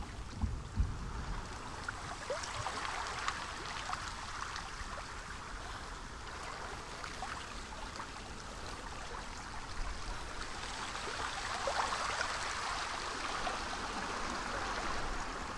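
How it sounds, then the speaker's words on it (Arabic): A waterfall in the video game Hellblade roars as a steady, even rush of water, continuous and moderately loud with no breaks or voices. "طيب منظر الشلال."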